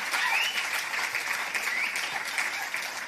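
An audience at a conference on land and sovereignty claps steadily, with a sustained round of applause from a crowded hall and no voices on top.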